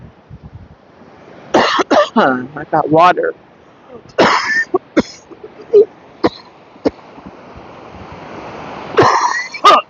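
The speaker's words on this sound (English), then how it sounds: "If you've heard me coughing, I apologize." A person coughs and clears their throat several times at the beach near sunrise, the bursts sharp and close amid a constant background of surf and light wind, with some talking in between.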